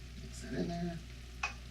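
Already-cooked meat is stirred back into a homemade marinara sauce, a short wet scrape and low simmer murmur with a brief sharp clink near the end, close and quiet, no voices.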